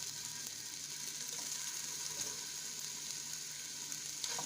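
Meatballs sizzle in olive oil in a pan, giving a steady, faint crackling fry that runs alone for the whole stretch with a few brighter pops near the end.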